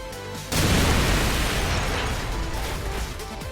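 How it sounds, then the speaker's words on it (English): Grenade explosion in Call of Duty 4 ProMod on the Backlot map: a sudden loud boom lands after half a second of quiet, then a long rumbling, crackling decay that fills the rest of the clip. "where you can throw this nade"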